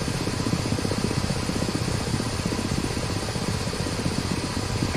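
Steady turbine whine and rotor roar of a Ka-50 Black Shark helicopter in the DCS flight simulator, a continuous dense drone held at even loudness for the whole stretch with no voices.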